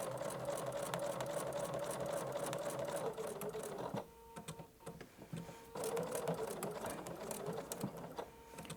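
A sewing machine with an echo quilting foot stitches along a quilting line in steady rapid bursts, pausing briefly midway before running again, close and moderately loud with no talking.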